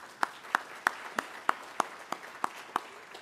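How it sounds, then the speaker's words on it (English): At a sports hall of fame ceremony in Lethbridge, sparse and faint clapping comes from a few hands, as single claps land in a steady, evenly spaced rhythm roughly three times a second. "you can give him a clap, that's fine"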